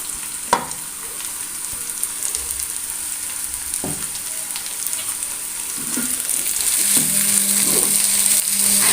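Chopped capsicum and cabbage sautéing in a pan for an egg omelette, a steady sizzling hiss throughout with a few soft stirring knocks, growing slightly louder toward the end; no voices.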